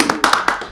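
A podcast audience claps for a guest with a handful of sharp, separate handclaps, close and fairly loud, spaced unevenly over a brief moment.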